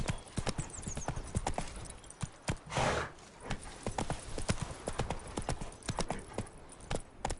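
Roach the horse gallops in The Witcher 3 video game, a steady run of sharp clip-clop hoofbeats, loud and close, with a brief whinny and a burst of noise partway through.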